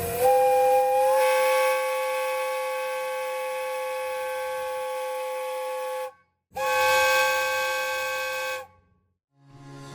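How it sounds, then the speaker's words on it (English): A loud, steady steam whistle converted to run on air pressure, aboard a riverboat, blows a long chord-like blast, cuts off briefly, then sounds again before stopping, with a soft hiss around it. "that's a genuine steam whistle that's been modified to work with air pressure"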